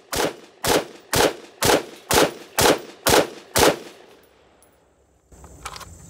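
Eight evenly spaced shots from a SIG rifle firing Winchester 5.56 55-grain FMJ rounds, each a loud sharp crack with a short ringing tail, followed by a quiet pause and faint metallic clinks.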